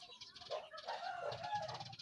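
Plump chicken clucking close by in a tree-lined yard, a series of short, throaty calls with brief flutters between them.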